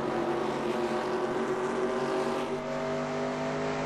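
Race car engine at Homestead in the NR2002 racing video game, a steady, loud droning hum held throughout with no talk.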